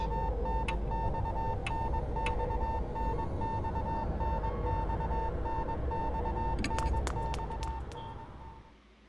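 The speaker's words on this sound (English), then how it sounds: "There's an instant beeping like from a telegraph" Telegraph-like Morse code beeping in the video game Death Mark: a steady run of short, evenly spaced electronic beeps over a low droning ambience, with a few brighter clicks near the end before it fades.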